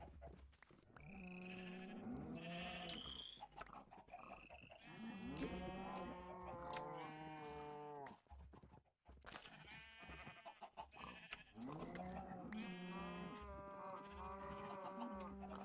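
Sheep bleating in the Minecraft video game, repeated nasal baa calls from several sheep overlapping at moderate loudness, with faint clicks from shearing between bursts and no talking.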